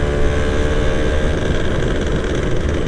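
Motorcycle engine on a Yamaha F1ZR two-stroke running steadily and loudly, a continuous dense drone with no pauses.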